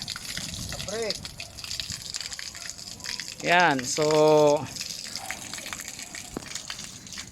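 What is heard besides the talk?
water gushing out of sand filter backwash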